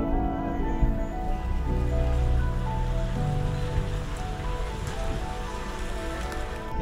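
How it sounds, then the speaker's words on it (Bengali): Heavy rain pours steadily over Betaab Valley in Pahalgam, Kashmir, a dense, even wash of patter that holds at a constant level throughout with no break. "এখানে অনেক বৃষ্টি পড়ছে"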